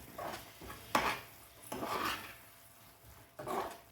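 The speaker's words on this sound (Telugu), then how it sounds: "సరిపడా ఉప్పు వేసుకొని బాగా కలుపుకుందాము." Egg masala curry stirred with salt in a pan, soft scraping and rasping strokes of a spoon against metal coming in several uneven bursts, close and quiet.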